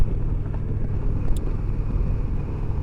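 An Indian Roadmaster Dark Horse motorcycle cruises at about 62 mph, its engine near 2,400 RPM giving a steady low rumble mixed with wind roar, loud and continuous with no speech.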